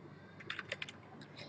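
Quick keystrokes on a computer keyboard, a short burst of several taps followed by a few more, quiet and close, with faint background hum.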